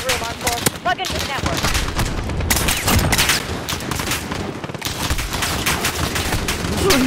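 Dense video-game gunfire crackles almost continuously at close range, with rapid bursts and heavy reports layered over a noisy battle mix.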